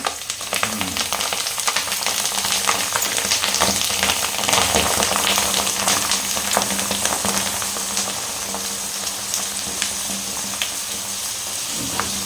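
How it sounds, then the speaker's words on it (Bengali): Green chillies frying in hot oil for a stuffed chilli pickle, giving a steady, loud, dense sizzle that crackles throughout with occasional stirring clinks and no talking. "বন্ধুরা এইভাবে লঙ্কাগুলো আপনাদেরকে ছেড়ে দিতে হবে তেলের মধ্যে"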